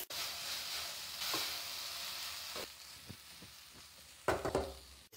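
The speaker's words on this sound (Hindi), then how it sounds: "मसाले डालने के बाद तकरीबन हम 3 से 4 मिनट मजीद भूनेंगे।" Chicken and spices being stir-fried in a pan, a low steady sizzle with several sharp stirring scrapes and clatters, louder near the end, no talk.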